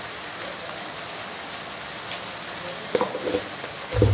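Turmeric goes into hot oil for chhole, giving a steady crackling sizzle throughout with a couple of short stirring or clinking knocks near the end, no talking.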